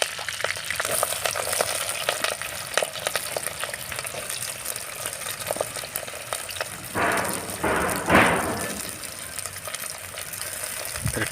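Chopped onions, curry leaves and green chillies fry in oil for chicken curry, with a constant crackling sizzle and a couple of louder stirring swishes near the end.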